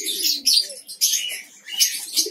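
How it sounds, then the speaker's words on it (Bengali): A colony of cockatiels in an aviary setup chirps continuously, with dense, busy high-pitched calls overlapping close by in several bursts and no speech. "অলরেডি আমি কিন্তু আমার ককেটলের কলোনির সামনে দাঁড়ায় আছি"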